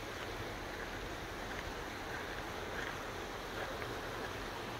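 The Ilfis stream flows in a steady, faint broadband rush of water, continuous and even throughout with no voices, heard from a short distance along a hiking path.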